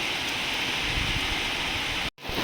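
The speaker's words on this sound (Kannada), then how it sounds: "ಇಷ್ಟು ಜೋರು ಮಳೆ ಇದೆ" Rain falls steadily as an even, hissing wash, with a brief dropout near the end.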